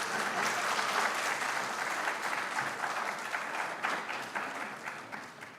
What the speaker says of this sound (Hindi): यहाँ सबसे ज़्यादा तालियां बजती हैं